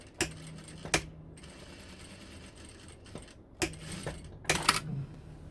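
Sewing machine stitching a diagonal seam at an armhole binding on a dress, in short separate runs of whirring stitches with clicks and quieter gaps between them.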